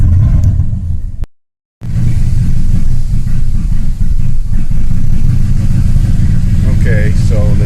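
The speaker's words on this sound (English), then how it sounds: "it's running shitty. It sounds like it's got a massive vacuum leak" A car engine runs rough with a massive vacuum leak and the battery light on, a loud close rumbling idle that cuts out briefly then resumes, with someone talking over it.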